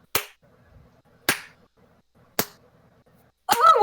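Sharp claps made by a game master during a D&D session, three crisp, evenly spaced claps about a second apart, then a fourth burst blending into a voice, close and loud against near silence.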